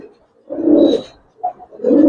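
An old-breed male Giribaz pigeon coos close by, with two low throaty coos separated by a short soft note, clear and alone.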